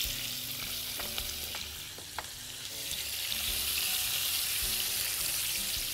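Lemon slices seasoned with salt and pepper fry in oil in a pan, giving a steady, close bright sizzle with a few faint clicks and taps throughout.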